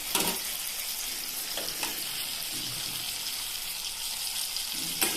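Small pieces of tomato fry in a pan for a quick fish fry, giving a steady broadband sizzle throughout with a few brief stirring knocks and scrapes, no voices.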